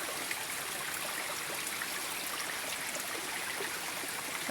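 Creek water flows steadily at a constant, even level, a soft continuous babbling rush without pauses.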